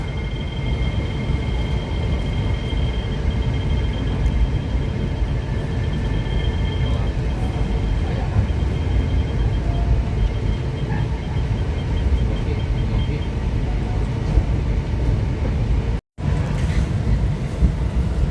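The Pangandaran panoramic passenger train departing Leles station in Indonesia, a steady, loud rumble of wheels and car noise with wind buffeting, continuous for the whole stretch and broken only by a momentary dropout near the end.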